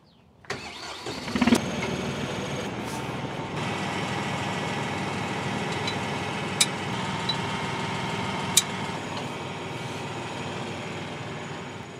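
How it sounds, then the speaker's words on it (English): A tractor engine cranks and catches, then settles into a steady, close idle with a continuous mechanical drone and a couple of sharp clicks or knocks along the way, with no talking. "we're going to start the tractor, lift up the subsoiler"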